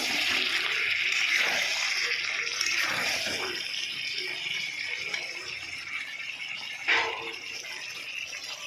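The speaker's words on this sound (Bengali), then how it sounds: "এবার আমি জল ঢেলে দেবো।" Water pours steadily into a cooking pot of seared meat and potatoes, a continuous close splashing gush that slowly tapers, with a brief clatter near the end.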